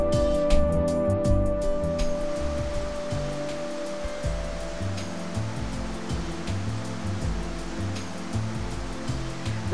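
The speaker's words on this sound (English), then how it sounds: "The sound of the waterfall is inducing me to daydream" A waterfall beside a house set in a natural landscape gives a steady, unbroken rush of falling water, with low tonal sounds running underneath and no speech.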